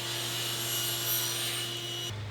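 Table saw with miter gauge at 8 degrees cutting angled ends on wooden shop stool rails, a steady close whine and rasp of the blade through wood that cuts off abruptly near the end.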